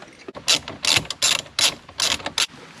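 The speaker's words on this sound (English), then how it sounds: "so now I'm going to take out this bolt here. Another 7." A hand ratchet works a 7 mm bolt loose inside a C5 Corvette during a blend door actuator replacement, close, loud rapid clicking bursts repeating about six times in quick rhythm.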